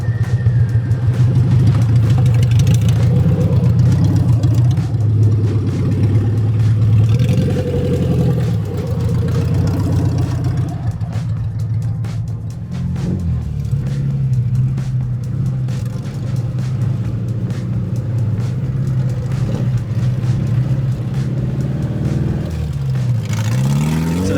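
A Suzuki Samurai rolling slowly on tires aired down to about 13 PSI over small bumps, its engine droning loud and steady throughout with occasional shifts in pitch.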